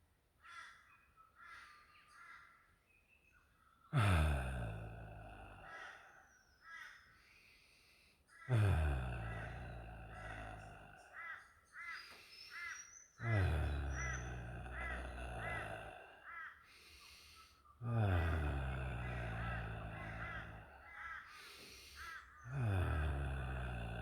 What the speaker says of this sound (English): I'm making a little bit of an auditory noise on the out breath